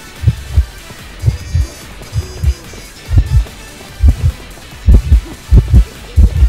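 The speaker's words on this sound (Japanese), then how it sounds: "ただ心音がするぜ。" Heartbeat effect from the video game Identity V, deep double thumps pulsing in a regular rhythm that grows quicker and louder toward the end, with no talking.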